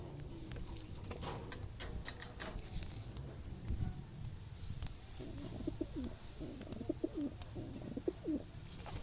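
Pigeons cooing inside a cage give repeated soft, throaty coos in short bursts against faint background noise and occasional light rustling.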